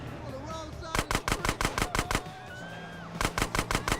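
A gang member in GTA San Andreas opens fire on a street, loud rapid gunshots in two sharp bursts separated by a brief pause.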